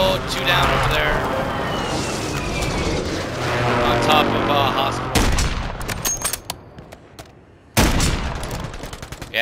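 Explosions and bursts of gunfire from an airstrike in a shooter video game, loud and dense at first, then breaking into scattered sharp blasts with brief pauses and a final heavy hit, with voices talking over it.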